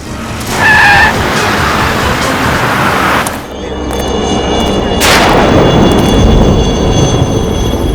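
A car brakes hard and skids to a stop on the road, a loud sustained tyre screech followed by a heavy rumbling thud and lingering engine and road noise.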